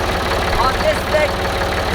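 Tractor engine idling close by with a low, steady rhythmic chug, and voices talking briefly over it.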